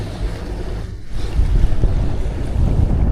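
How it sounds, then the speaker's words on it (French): A small fishing boat out on the ocean while trolling, with waves slapping and sloshing against the hull as they build, under heavy gusting wind buffeting the microphone, loud and close. "Les vagues deviennent plus grosses ici."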